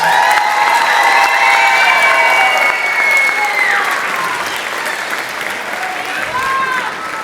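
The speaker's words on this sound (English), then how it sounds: "could we give them a round of applause for that performance?" Loud, steady applause with some cheering from a middle school spring band concert audience, voices and shouts blended in, easing slightly toward the end.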